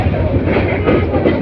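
The Balaka Commuter train rolls into Joydebpur railway junction, a loud steady rumble of carriages with rhythmic wheel clatter and a couple of sharp metallic knocks.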